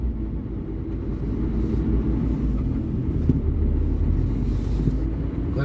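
A loaded vehicle drives along the BR-232 highway in Pernambuco, giving a continuous loud low rumble of engine and road noise with wind buffeting and no break.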